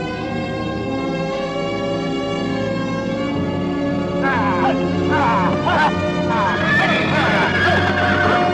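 Horses neigh and whinny in a western film scene, long loud whinnies over a dense bed of music or voices, with a voice partly underneath.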